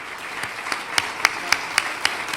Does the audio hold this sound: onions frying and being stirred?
no